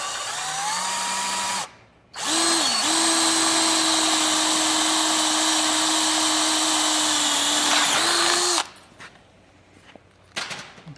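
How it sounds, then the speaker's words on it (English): A power drill bores a hole in a deck step with a 3/8 inch bit, a loud, steady high-pitched whine held for about six seconds after a short start-up burst, then stopping. "we use a 3/8 inch bit to drill this hole"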